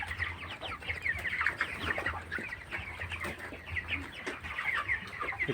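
Broiler chickens on a poultry farm at about 24 days old, a flock clucking and chattering continuously while eating and drinking, many overlapping calls close by under a steady low hum, with no speech.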